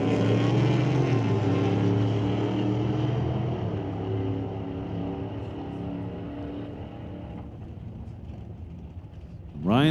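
A 1998 Camaro with a 6-liter LS engine drag racing at a Smoke Fire and Thunder qualifying event, a loud, rising engine roar that fades as it pulls away, with another burst at the end.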